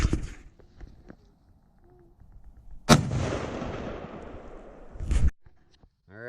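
A large 8mm rifle fires at a police car door panel outdoors. Two sharp, loud gunshots land a couple of seconds apart, and each is followed by a long rolling echo that fades out.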